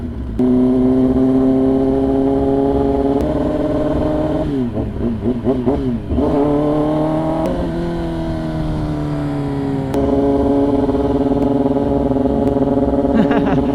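A Kawasaki ZX10R sport motorcycle being ridden through mountain roads in Zambales, its engine droning loud and close with steady tones that rise and fall through gear changes and throttle shifts for the whole stretch.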